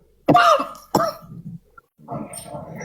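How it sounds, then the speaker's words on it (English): Harsh, close coughs, two sharp bursts followed by throat-clearing and a rougher hacking cough, loud and abrupt. "I'm having a coughing fit"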